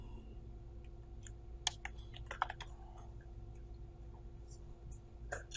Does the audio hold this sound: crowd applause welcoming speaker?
no